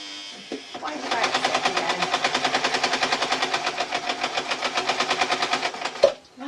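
A basic modern sewing machine stitches a tee shirt dress, running a fast, even rapid-fire chatter of needle strokes for about five seconds, starting and stopping with brief clicks; speech is faintly present around it.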